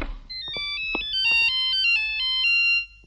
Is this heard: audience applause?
no